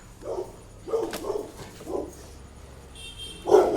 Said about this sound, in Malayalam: ഏതാ പട്ടിത്